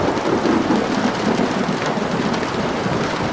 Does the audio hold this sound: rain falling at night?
yes